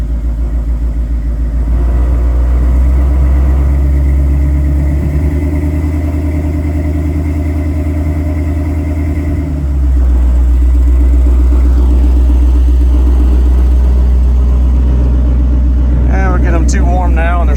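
A motorcycle engine on a rear-wheel dyno-style stand revs steadily at elevated RPM to warm TSL SX tires, a loud close rumble holding through, easing slightly, then rising again, with a voice talking over it.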